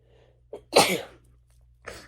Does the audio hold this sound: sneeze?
yes